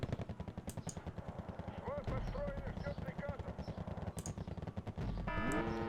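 Artillery and gunfire in the video game Wargame: Red Dragon, rapid rhythmic bursts of automatic fire with heavier booming shots, fairly faint, with a brief whining sweep near the end and talk mixed in.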